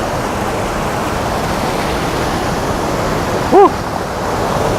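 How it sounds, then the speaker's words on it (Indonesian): Rushing water at a waterfall in Puncak, Bogor, a dense, loud, steady roar heard close by, with a short voiced sound breaking through near the end. "sekarang lagi di air terjunnya Ataun. Kedengeran nggak suaranya kira-kira?"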